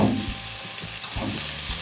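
Onion sautéing in oil in a pan, a continuous bright sizzle with soft stirring scrapes, close and steady throughout.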